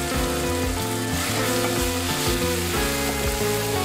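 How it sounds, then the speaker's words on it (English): Kimchi fries with onions and mushrooms in a pan, a dense, steady sizzle and crackle heard up close, with occasional scraping as the mix is stirred. "Then add in the kimchi and let it caramelize a little"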